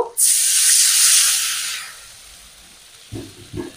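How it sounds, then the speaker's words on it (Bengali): Water poured into a hot pan of frying chopped tomato and ginger bursts into a loud, bright sizzling hiss that fades over a couple of seconds, followed by a few soft clinks. "টমেটো আর আদার মধ্যে একটু জল দিয়ে দেব"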